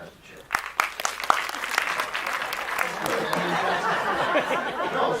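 Audience at a classic film festival panel bursts into sustained, dense applause that builds after a few sharp opening claps and holds loud and steady, with faint laughter and chatter mixed in.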